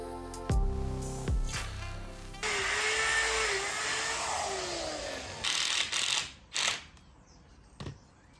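Cordless drill driving screws into a natural wooden stick joint for a hand-built children's playhouse, with a sustained whirring drive, a rising motor whine, then short bursts and clicks as the screw seats, close by.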